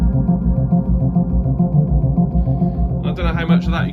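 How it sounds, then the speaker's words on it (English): A lush Yamaha DX7 synthesizer tone with stereo delay swells with echoing repeats and a long reverb tail, bright overtones flaring near the end. "So that's a stereo delay, and then I'll put the reverb on."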